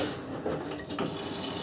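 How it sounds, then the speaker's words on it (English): A detergent ball clunking around inside the drum of a Miele W562 washing machine during a Minimum Iron 30°C wash, a short, soft knocking and rattling over the steady churn of the machine. "the clunking you can hear is the detergent ball"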